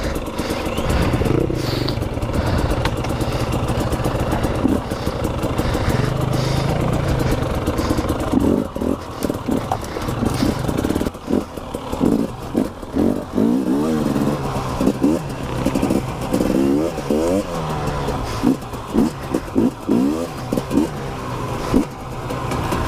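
A 2019 KTM 250 EXC TPI two-stroke enduro motorcycle labours through thick brambles, its engine revving and bogging in uneven bursts with clattering of branches and bike parts, loud and close throughout.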